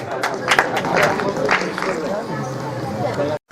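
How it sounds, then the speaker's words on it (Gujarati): An audience claps at a devotional music gathering, a dense and steady patter of many hands with murmured crowd voices underneath, before the sound cuts out abruptly just before the end. "મારી સિવાય બધા તાળી પાડો"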